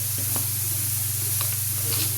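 Chopped tomatoes sizzling with sautéed onions in a pan for a mung dal curry, a steady close hiss with faint stirring clicks and no voices.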